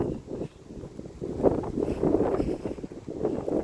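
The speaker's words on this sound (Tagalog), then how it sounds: "Ang lakas pa rin ang hangin." Steady, strong wind from Storm Ciaran in France buffets the microphone, a low roaring rush that swells and gusts continuously without pause.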